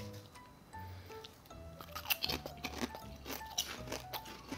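Salted egg flavored potato chips crunch between the teeth in a close, quiet series of crisp bites and chewing sounds that grow denser partway through.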